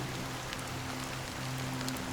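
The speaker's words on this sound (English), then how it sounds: "it's still raining." Steady rain falls in the Honkai Star Rail game world, a soft, even patter that runs without a break for the whole stretch, with a faint low hum underneath and no voices.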